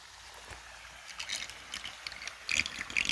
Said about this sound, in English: It's already draining pretty quick